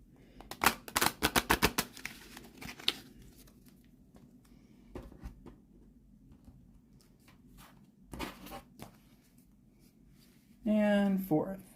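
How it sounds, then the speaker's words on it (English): Tarot cards riffled in a quick burst of crisp flutters, followed by scattered shuffling and handling noises, with a brief spoken voice near the end. "here's the 3rd shuffle"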